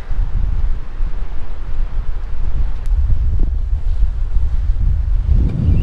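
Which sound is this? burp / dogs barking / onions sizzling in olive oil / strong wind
strong wind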